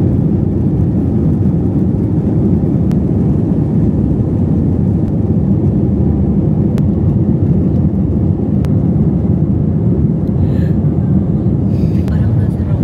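Philippine Airlines airliner on its takeoff roll, a loud, steady low engine roar filling the cabin throughout with no voices over it.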